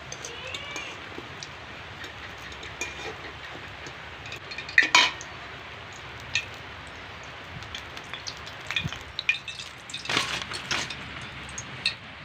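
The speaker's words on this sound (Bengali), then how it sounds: "এবার এগুলোকে তেল থেকে তুলে নিচ্ছি" Fried aloo patties lifted out of hot oil, scattered light clinks and taps of a utensil against the pan over faint bubbling, close and intermittent, with no talk.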